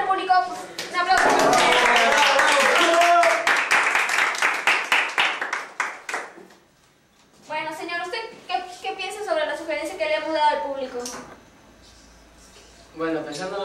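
A talk show studio audience claps loudly in a dense burst for several seconds, then fades as people speak over scattered claps.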